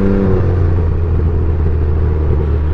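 A Can-Am Ryker Rally with a Silber Turbo tunable exhaust, one baffle fitted, gives a loud, steady low engine drone close by, with a brief throttle change at the start and no voices.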